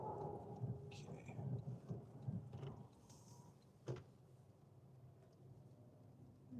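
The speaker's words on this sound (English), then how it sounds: "We got through that part of the rain pretty quick." Heavy rain drums steadily on a moving vehicle during a Colorado storm, with thunder rumbling low throughout and a sharp crack near the four-second mark, under a constant road roar.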